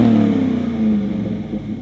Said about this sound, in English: while still maintaining that deep throaty sound that Flowmaster is known for